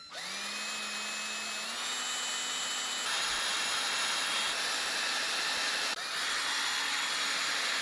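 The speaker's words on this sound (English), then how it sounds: "We'll try a left-handed drill bit" A power drill whines continuously at high pitch, grinding steadily into a broken bolt on a dump truck with slight shifts in tone and one brief pause, close and without talk.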